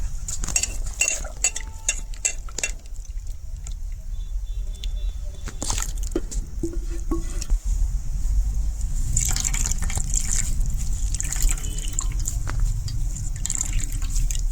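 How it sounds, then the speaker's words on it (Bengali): Beetroot pulp being squeezed by hand in water to extract the juice, with wet squelching, sloshing and occasional clinks of a bowl or utensil, close and intermittent over a steady background. "এটা সাবড়াটা আবার জলের মধ্যে লইয়া আবার চেপিয়া রকম করে জলটা লইলিম।"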